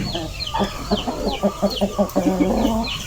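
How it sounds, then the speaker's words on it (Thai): A seven-month-old young hen clucks in a quick series of short, close, rhythmic calls, with a brief rise in pitch near the end. "ตัวนี้ตัวหนึ่ง เป็นไก่สาวเจ็ดเดือน"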